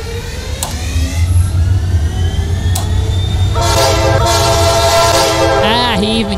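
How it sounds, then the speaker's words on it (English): Old-style train horn in a train simulator game, sounding over a loud, steady locomotive rumble with a few clicks, then a long, strong multi-tone blast that bends in pitch near the end. "He even kept the old horn sound, too."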